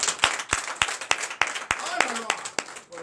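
A church congregation at a Sunday worship service in Benin claps in acclamation, sharp separate claps at a quick regular beat mixed with voices and short sung tones.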